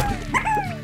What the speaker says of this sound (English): That's our dog we had for a couple years.